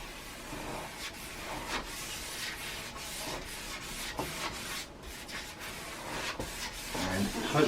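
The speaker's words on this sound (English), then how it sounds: "brush of the varnish." A brush applies varnish to an oil painting during art restoration, a soft scratchy rub in irregular strokes, close and quiet over light background hiss.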